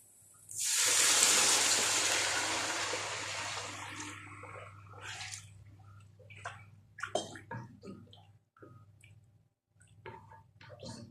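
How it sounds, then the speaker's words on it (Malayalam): Chicken stock gushes into a soup pot of sautéed vegetables in one loud, steady pour that tapers off, followed by scattered clinks and drips nearby. "ഇനി നമുക്കിതിലേക്ക് ചിക്കൻ്റെ സ്റ്റോക്ക് ഒഴിക്കാം"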